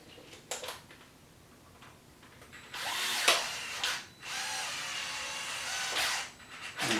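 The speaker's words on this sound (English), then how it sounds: "I'm going to get my Dewalt and tighten this one up" A DeWalt power drill tightens a bolt on a Wide Maxx kit install, giving a few loud whirring bursts with short pauses between them, preceded by light clicks of handling.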